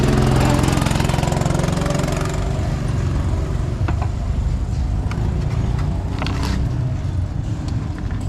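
A go-kart engine runs loud and steady at close range, a continuous droning rumble with a few faint clicks and knocks over it.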